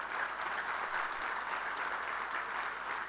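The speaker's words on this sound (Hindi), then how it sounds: "ताली मारनी है तो जोर से मारिए" An audience at Lt Gen Gurmit Singh's security talk in Dhar claps loudly together, a thick, steady wash of applause lasting a few seconds with no talking over it.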